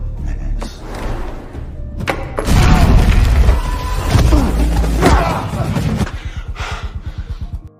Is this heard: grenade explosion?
yes